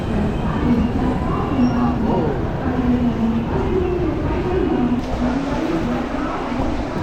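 Crowded Konkan Railway passenger train, a loud steady rumble and rattle of the moving coach with a low droning hum, continuous and close, with people talking faintly amid the noise.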